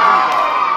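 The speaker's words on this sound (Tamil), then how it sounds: "என்னத்துக்கு இப்ப எல்லாம் இப்ப கூச்சல் போடுறாங்க?" A planetarium audience of children and adults shouts and cheers together in a sustained, loud, high-pitched roar that fills the whole brief moment.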